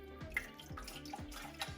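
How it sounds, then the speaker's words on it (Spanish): Water running into degreaser in a container for washing a kart part, a soft continuous pour with rhythmic sloshing pulses roughly every half second, close and fairly quiet. "echar un poquito de desengrasante, agua y agitar"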